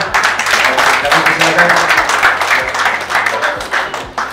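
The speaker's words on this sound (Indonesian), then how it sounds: "boleh tepuk tangan untuk Mr. Karim" Audience clapping at a pool billiards event fills the room, dense applause with a loudspeaker voice talking over it throughout.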